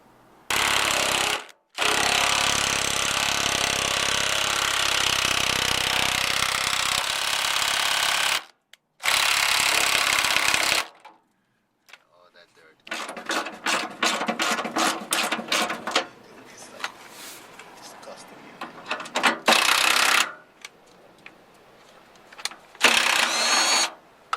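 Power tool driving out screws from the fender of a 1986 VW Notchback, long loud buzzing runs broken by short silences, then choppier bursts of rapid rattling ratchet clicks.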